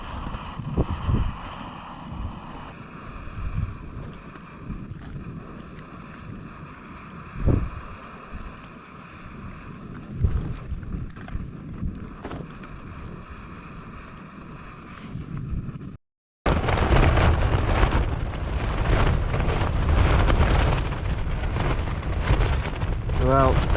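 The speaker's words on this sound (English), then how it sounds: "the wind's changed direction and we're getting absolutely battered" Strong, shifting wind batters a tent at a wild camp beneath Charged Rock in the Peak District, a gusty roar with flapping bursts, cut by a brief dropout before a louder, denser stretch of buffeting.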